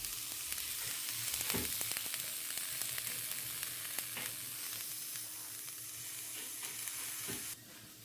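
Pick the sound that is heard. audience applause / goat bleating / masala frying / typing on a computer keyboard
masala frying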